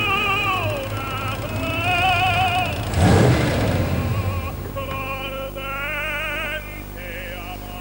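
A De Tomaso Pantera supercar's engine revs loudly and close, with rising and falling pitch sweeps, a surging peak near the middle, then further revs, and no talking.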